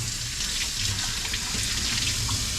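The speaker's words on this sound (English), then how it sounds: "We will rinse it" Cannonball jellyfish being rinsed under steady running water at a tap or sink while it is cleaned for soup, a continuous close hiss and splash with no talking.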